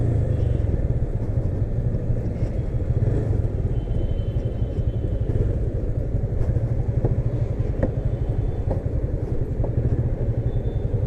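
A Yamaha FZ25 motorcycle on a test ride gives a steady, close engine rumble with constant wind and road noise throughout.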